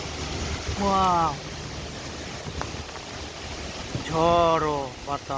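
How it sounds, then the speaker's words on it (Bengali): Steady, rushing broadband noise of storm wind during heavy rain over a flooded village runs throughout, with two short vocal exclamations rising above it. "ঝড় ও বাতাস একেবারে ভেঙে চুরে নিয়ে যাচ্ছে।"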